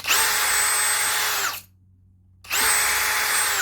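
A power drill with a new bit whines loudly as it bores into hardwood, stops briefly, then starts again for a second burst.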